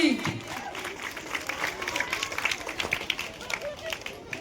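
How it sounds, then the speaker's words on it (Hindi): An audience claps together at a religious gathering where a speaker is preaching about dowry, with sustained mixed clapping and crowd noise under some voices. "ताली।"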